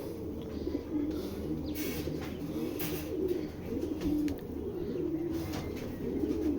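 A Tota silver pigeon held in the hand coos in repeated low rolling phrases, close and steady, with other birds chirping faintly behind and no one speaking.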